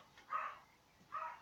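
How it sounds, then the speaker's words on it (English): Two faint, distant dog barks, a little over a second apart, rise out of quiet room noise. "If you hear a dog barking, that's because the door just knocked."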